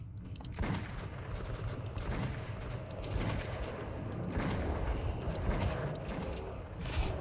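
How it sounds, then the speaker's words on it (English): Gunfire in the shooter Metro 2033 Redux, with a pistol in use: repeated sharp shots spaced across a busy, noisy mix, fairly loud and with no voices. "we're just gonna use the pistol"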